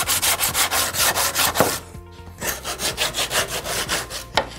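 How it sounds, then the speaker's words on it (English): A sanding block rubs back and forth over pallet wood for a bookshelf build, making close, rhythmic rasping strokes in a steady beat, pausing briefly midway before resuming. "you can use a sanding block"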